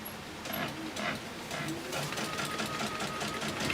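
A sewing machine stitches quilt borders with a steady, fairly close mechanical whirr and rapid needle chatter, pausing briefly and resuming.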